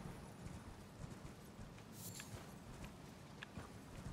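A horse's hooves clop in a steady gait while ridden in Elden Ring, faint, even footfalls repeating continuously over low ambient game noise.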